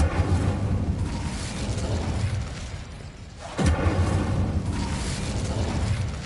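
Fiery whooshes of an Incendio spell in Hogwarts Legacy, two roaring bursts of flame separated by a brief dip, each swelling loud with a low rumbling body, no talking.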